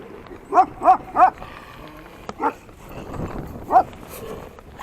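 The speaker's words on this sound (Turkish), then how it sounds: "Köpek sinirlenmiş arkadaşlar herhalde." A dog barks several times in quick succession, then a couple more separate barks after a pause, fairly close and loud over a noisy, windy outdoor background near a shelter.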